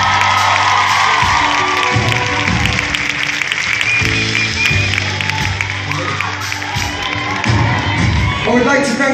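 A concert crowd in Madrid cheers, whoops and applauds for the drummer, a dense, loud roar of clapping and shouting that carries through, with a voice speaking over it.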